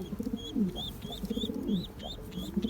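Pigeons in a loft coo in low, repeated soft phrases close by, with a few higher bird chirps scattered above and a faint steady background.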